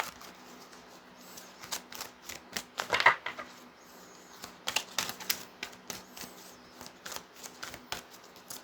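Oracle cards shuffled by hand in repeated quick riffling bursts, soft papery flicks and slaps that swell and fade, close and fairly quiet with no talk.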